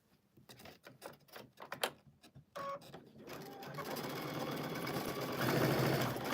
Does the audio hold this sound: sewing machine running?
yes